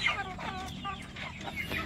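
A Dekalb Brown breeder hen clucks up close in a steady run of soft, repeated clucks, clear and moderately loud, with no talking.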